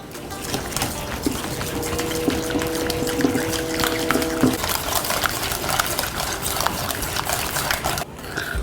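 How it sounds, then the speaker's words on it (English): Blue cheese salad dressing being whisked in a bowl, a busy close clatter of wet stirring and tapping that runs continuously, with a brief pause near the end. "Now we whisk."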